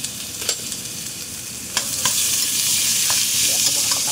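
Ground pork fries in a hot pan with a steady, loud sizzle, broken by a few sharp scrapes and clacks as it is stirred, with no voices.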